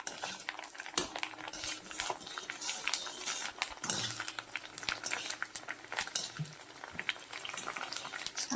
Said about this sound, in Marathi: टाकते वेळेस लो गॅस करून घ्यायचा आहे पहा किती मस्त फुलतात